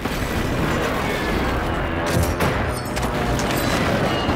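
Rapid gunfire rattles through a first-person video game battle, a continuous loud barrage of shots and booms filling the whole moment with no pauses.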